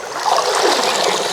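Water runs briefly and steadily from a tap or pour while something is rinsed, a short, close splashing gush.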